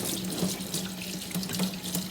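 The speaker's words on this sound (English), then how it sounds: "So I'm gonna go ahead and just give this ring a little rinse." Tap water runs steadily over an Instant Pot silicone sealing ring at a kitchen sink, a close continuous splashing rush with slight fluctuations as the ring is rinsed, no talk.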